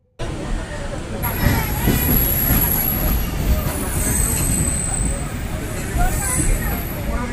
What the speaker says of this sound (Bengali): দুপুর 1:15 শান্তিনিকেতন এক্সপ্রেস ধরে আমরা বাড়ির উদ্দেশ্যে রওনা হলাম।